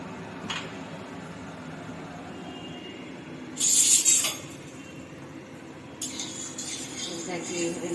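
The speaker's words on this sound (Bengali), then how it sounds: "নাড়িয়ে দেবো স্টার্ট এবার এগুলো ভেজে নেব" Veg pulao stirs and fries in white oil in a kadai, with a short burst of scraping and sizzling, then a second softer stir over a quiet kitchen background where someone talks.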